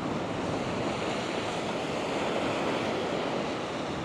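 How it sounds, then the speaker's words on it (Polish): Ocean waves and surf roll in steadily as the tide rises at Watermouth Valley on the coast, a continuous wash of breaking water with some wind noise and no voices. "przypływ jest i ta fala coraz bardziej nachodzi"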